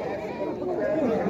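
Goats bleat at a busy outdoor livestock market in Azrou, a close, wavering animal call rising over the crowd's background chatter and voices.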